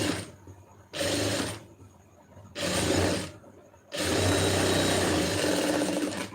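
A sewing machine stitches the lining of a blouse in three close, steady runs: two short ones with brief pauses between, then a longer continuous stretch of fast mechanical whirring.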